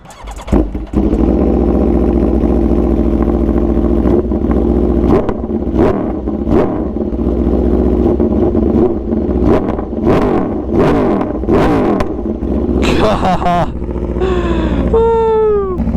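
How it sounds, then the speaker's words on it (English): An Aprilia RSV4 1100 Factory sport bike idles loudly nearby and gets several sharp throttle blips, its engine roaring up and falling back, with a voice talking briefly near the end. "Just like we do when we ride new bikes, we're gonna give you guys a rev."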